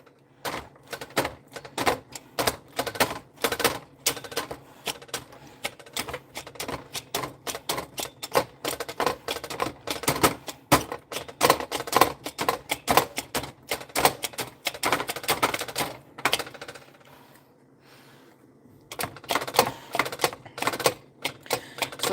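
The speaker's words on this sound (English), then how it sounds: "My neighbors are going to probably kill me from hammering, probably." A meat tenderizer pounds pork steaks in rapid, sharp, closely spaced knocks that continue steadily for a long stretch, with a brief pause near the end before the hammering resumes.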